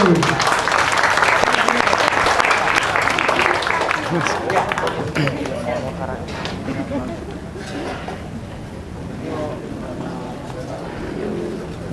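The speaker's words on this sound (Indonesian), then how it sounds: "tepuk tangannya mana untuk Mas Bambang Gage?" Audience applause at a Solo regional election campaign event welcomes Mas Bambang Gage, dense and loud at first, then thinning out while a host keeps talking over it.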